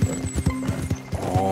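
Horse hooves in Red Dead Redemption 2, a rhythmic clip-clop of steady galloping strides, close and clear, with a brief whinny-like tone near the end.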